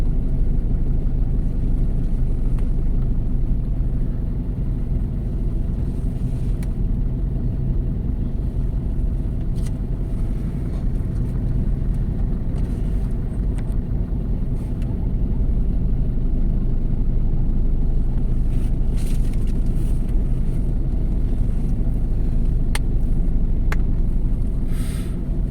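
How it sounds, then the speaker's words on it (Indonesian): Steady low rumble of idling and creeping cars in a near-standstill traffic jam at the Bocimi toll road exit, a continuous dense engine drone with no one speaking. "Ke sana macet, ke sini macet."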